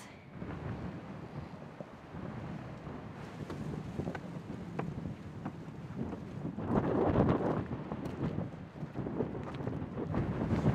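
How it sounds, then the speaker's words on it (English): Strong north wind gusts across a sailboat near a nature reserve, a loud continuous rush with buffeting on the microphone that swells and surges, especially in the later part. "It's very windy today and it's straight from the north"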